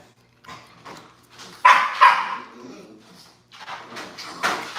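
An American Bully dog barks, yips and whimpers in the background, giving short excited bursts and whiny cries in uneven succession while it plays indoors, with no speech over it.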